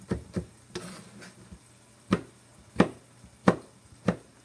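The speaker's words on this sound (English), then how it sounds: "You just dice it up." Tomatoes diced with a knife on a cutting board, a series of crisp, close chopping knocks in an uneven rhythm, about eight strikes, spaced further apart toward the end.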